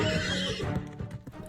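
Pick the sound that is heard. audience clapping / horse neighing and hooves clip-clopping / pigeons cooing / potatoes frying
horse neighing and hooves clip-clopping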